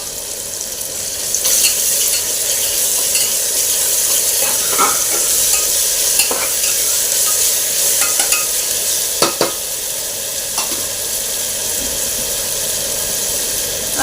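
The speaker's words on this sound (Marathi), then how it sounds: "आणि छान असे हे भाजून घेऊया। यामध्ये आता आपण लसूण खोबरं बारीक करून घेतलेलं आहे ते घालूया" Garlic and coconut roasting in a pan with a loud, continuous sizzle and hiss, punctuated by occasional scraping and tapping as a spoon stirs, close up and without talk.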